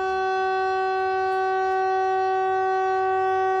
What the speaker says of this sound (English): The siren in the town that we live in is kind of behind the buildings there